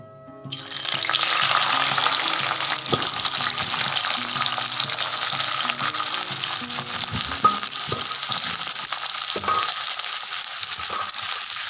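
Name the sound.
onions frying in hot oil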